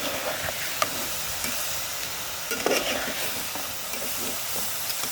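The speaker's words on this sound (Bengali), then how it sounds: "আমি খেজুরের গুড় আর নারকেল কোরানো ভালোভাবে একসাথে জাল দিয়ে নিলাম।" Date molasses and grated coconut cook in a pan, sizzling and bubbling steadily while being stirred, with occasional scrapes and taps of the spoon, close and moderately quiet throughout.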